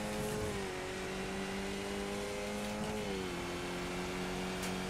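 Race cars in the iRacing sim running close together in a pack, a steady loud engine drone with smooth pitch shifts as they hold speed, no voices over it.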